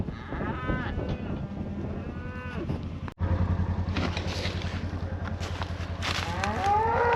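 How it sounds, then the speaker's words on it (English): Cattle on a Nebraska farm moo loudly and close by, long drawn-out lowing calls overlapping one another with a brief cut partway through. "Like this cow and calf right here."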